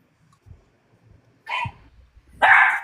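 A dog barks in two loud, separate bursts. The first comes about halfway through and the second, stronger one near the end, with quiet low background noise between them.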